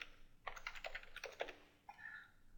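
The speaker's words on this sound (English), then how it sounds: "I'll simply type required." Fingers type quickly on a computer keyboard, with a short run of soft, close key clicks, a pause, then a few more taps, all quiet and alone.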